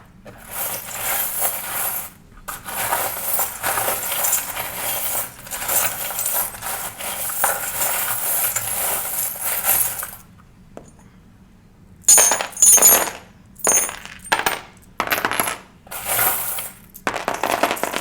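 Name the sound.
cartomancy charms being tossed and clinking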